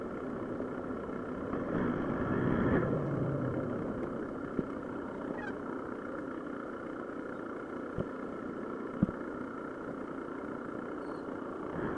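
A motorcycle engine runs at a low, steady idle-like rumble on a quiet street in Madikeri, with the throttle eased, faint and continuous, a couple of light clicks near the end and no voices.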